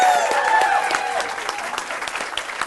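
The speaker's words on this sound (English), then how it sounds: "a big round of applause to get us motivated" Audience applause at a debate event, a dense steady clapping from a crowd with cheering and whoops mixed in, fairly loud and continuous throughout, easing slightly toward the end.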